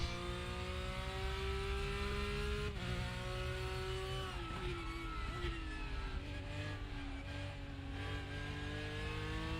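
Porsche 911 GT3 race car engine in the RaceRoom racing game, a continuous loud drone that rises and falls with gear changes, heard alone with no talk.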